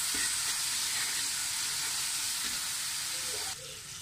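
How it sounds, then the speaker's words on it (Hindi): Roughly chopped tomatoes frying in a pan with garlic paste and being stirred, giving a loud, steady sizzle and hiss that runs without a break and drops slightly near the end. "अब हम इसमें जो है फ़ौरन से डाल देंगे 2 medium size के टमाटर रफली चॉप किए हुए"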